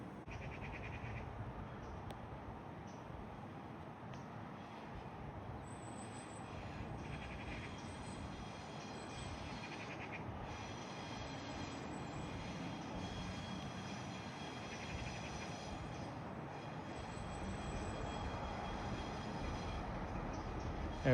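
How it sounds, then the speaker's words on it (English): A train passing through in Northern Ireland, a long steady low rumble with faint wheel squeal and clatter, heard from a distance with birds faintly in the background and no talking. "Our train's going through now, let's see it."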